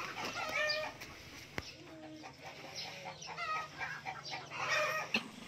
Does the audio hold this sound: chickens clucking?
yes